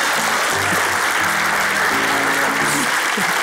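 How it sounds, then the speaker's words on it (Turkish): Studio audience applause at a Turkish comedy show fills the whole stretch as dense, steady clapping, loud and unbroken, with brief low vocal sounds underneath. "Seyirci, böyle terbiyesizliklere alkış yapıyorsunuz."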